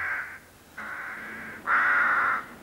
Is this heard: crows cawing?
yes